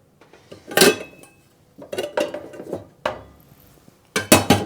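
Cooking pot and pans clatter on a home kitchen stove, several separate bursts of metallic clanks and scrapes with short pauses between them, close and fairly loud.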